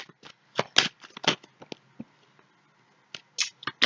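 Tarot cards are shuffled for a reading, giving a close series of short, crisp riffling bursts with brief pauses between them and no talking.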